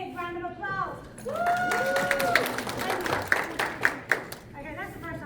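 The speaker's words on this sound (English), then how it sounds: "A big round of applause." Audience applause at a teamwork talk, a crowd clapping and cheering loudly for several seconds with a whoop, the sharp claps rising toward the end while voices call out.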